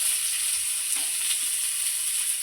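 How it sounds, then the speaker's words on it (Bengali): Bay leaf and two large chopped onions frying in hot oil, a continuous bright sizzle holding steady throughout with a faint stir or two, no talking. "আমি ওই তেলে ফোড়নে দিয়ে দিচ্ছি তেজপাতা, সঙ্গে দুটো পেঁয়াজ কেটে রেখেছি, পেঁয়াজ দুটো দিয়ে দিচ্ছি, বড় সাইজের পেঁয়াজ।"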